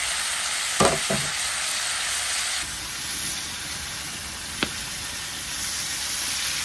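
A steak sizzles and fries in a pan, giving a steady near hiss throughout, with a couple of brief clatters of handling early on and a short sharp tick later.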